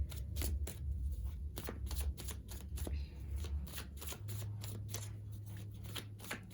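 Tarot cards shuffled by hand, a rapid close run of crisp riffling flicks and snaps with a few cards slipping out, over a low background hum.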